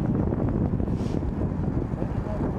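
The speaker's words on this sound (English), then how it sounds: "It's pretty windy upstairs up there. It's kind of windy down here, too." Continuous low rumbling wind of about 8 miles an hour, gusting to 12, buffeting close to the microphone, steady and fairly loud with no clear breaks.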